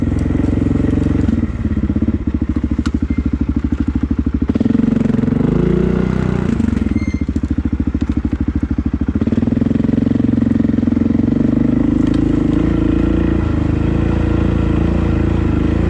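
An ATV engine runs loud and close as the quad turns around on a rough, muddy spring trail, its revs rising and dropping with rattling idle stretches and a steady throttle near the end.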